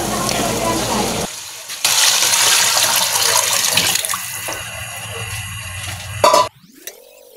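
Broth, 1.5 liters, poured into a cooking pot for crab in corn soup, a loud steady gushing splash running several seconds before cutting off, with a voice speaking briefly afterward.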